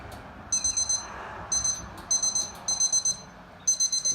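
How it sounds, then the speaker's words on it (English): Short bursts of high electronic beeps from the dashboard electrics of a 1993 Honda Helix scooter, three or four quick pulses per group, repeating several times over a soft background hiss. "I've never heard a Helix beep like that before."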